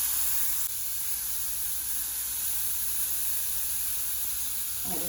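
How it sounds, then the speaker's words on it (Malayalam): Chopped tomatoes hit a pan of frying masala for mushroom masala, giving a steady loud sizzling hiss that fills the whole stretch, with a brief clatter near the end. "ഇനി ഇതിലോട്ട് അരിഞ്ഞു വെച്ച തക്കാളി ഇടാം."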